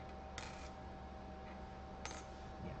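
A 1964 D silver quarter is dropped twice onto a hard surface, each landing giving a short, bright, high-pitched ring that fades quickly, the two rings about a second and a half apart in a quiet room.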